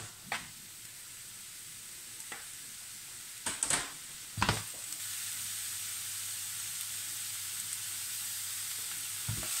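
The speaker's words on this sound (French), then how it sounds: "je vais faire revenir mes champignons" Mushrooms searing in a hot frying pan give a steady, close sizzle and hiss, broken by a few sharp spatters and clatters as they are stirred and turned.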